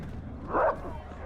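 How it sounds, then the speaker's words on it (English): An oddly pitched dog bark in The Witcher 3: Hearts of Stone, a single short muffled yelp over a low background hum, heard alone. "It's the weirdest sounding dog I've ever heard."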